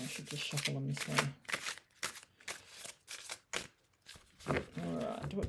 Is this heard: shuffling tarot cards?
yes